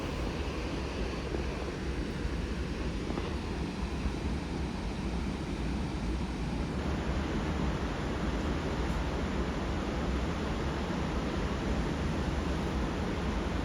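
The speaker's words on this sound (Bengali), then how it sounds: "এখান থেকেই দেখুন ওয়াটারফলের জলের শব্দ শোনা যাচ্ছে" Water roars continuously at the Rhine Falls in Switzerland, a dense, even rushing noise heard from some distance, steady throughout and slightly fuller in the second half, with no voices.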